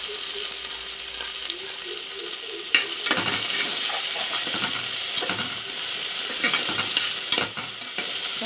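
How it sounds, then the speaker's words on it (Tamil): Chopped onions with green chillies sauté in hot oil for a chow chow kai kulambu, with a steady close sizzle broken by repeated scraping stir strokes. "வெங்காயம் நல்லா வதக்க விட்டுக்கலாம்."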